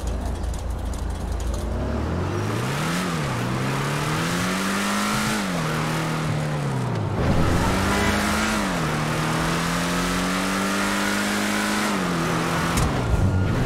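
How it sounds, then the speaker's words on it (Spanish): A tuned car in the game GTA 5 Online revs and accelerates loudly, its engine note climbing and dropping through several gear shifts over a sustained roar, with no talking. "escuchad cómo suena el coche después de la preparación"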